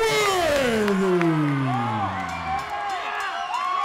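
Loud arena crowd at a Pinnacle Fighting Championships event, cheering, whooping and shouting as a fighter makes his entrance, with an announcer's voice booming over the din.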